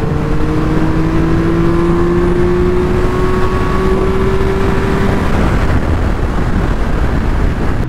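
A Triumph Speed Triple 1200RR motorcycle pulls hard at full throttle, its engine note climbing steadily through the gears under heavy wind rush, loud and close throughout.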